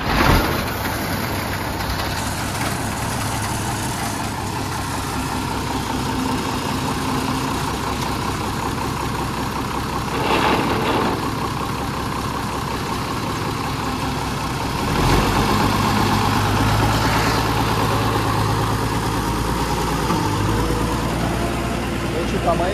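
An old tractor from Rio Grande do Sul idles on a rural property with a steady, loud, low-pitched engine drone throughout, while people talk nearby over it.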